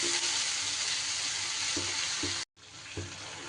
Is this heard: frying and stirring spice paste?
yes